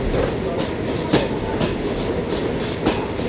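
The Hazara Express rolls into Baldher station platform, wheels clacking in a steady rhythm over the rails under a constant loud rumble, with no one speaking.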